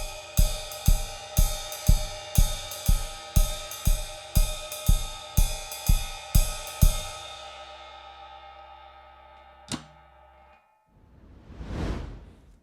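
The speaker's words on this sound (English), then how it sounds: "So together with our ride cymbal," Jazz ride cymbal pattern over a softly feathered kick drum: bright, shimmering cymbal strikes in a bouncy swung rhythm with low thumps under each beat, then a long ringing decay, one late strike and a final swelling wash, played alone.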